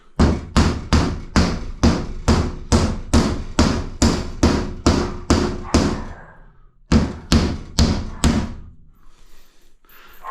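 Nails driven into bathroom wall sheeting with a hammer: a loud, close run of evenly spaced blows, about fifteen strikes, a short pause, then a few more.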